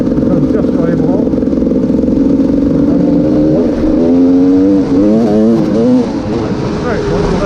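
A GasGas 300 EC two-stroke enduro motorcycle revs loud and close, its engine note rising and wavering as it accelerates, with a rider's voice faintly under the engine.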